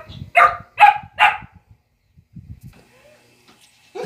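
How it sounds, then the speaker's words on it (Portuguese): Several dogs bark in a garden setting, three loud close barks in quick succession followed by quieter scattered yips and movement, with no talking. "não repara os latidos aí"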